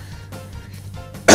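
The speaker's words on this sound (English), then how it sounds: "I'm gonna be clearing my throat a lot" A man clears his throat once, a short, rough burst at the end that follows a low, muffled rumble of breath and throat noise, close to the microphone with no speech.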